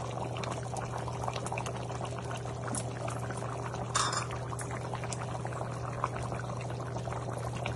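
Mango pieces go into a bubbling Andhra-style fish curry, a continuous simmering bubble and liquid churn with a steady hum underneath and a brief splashy burst midway.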